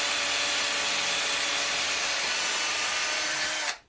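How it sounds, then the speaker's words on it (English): Electric drill with a metal bit boring mounting holes in metal rack rails for a suitcase Eurorack case, a steady high whining grind held for several seconds before cutting off abruptly. "Using a metal drill bit, it's easy to drill the mounting holes in the rails."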